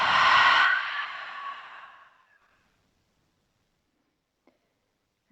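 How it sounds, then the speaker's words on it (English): A long, breathy exhale pushed out through the mouth during a relaxing yoga cool-down, strong at first and trailing off over about two seconds into near silence, with a couple of tiny clicks afterward. "Exhale everything out of your mouth."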